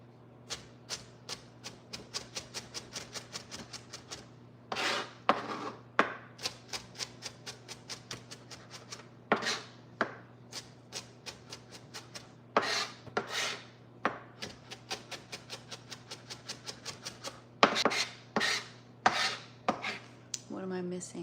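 Knife mincing onions on a cutting board in a home kitchen, with rapid irregular bursts of sharp chops against wood, alternating fast runs and pauses, close and clear over a steady low hum.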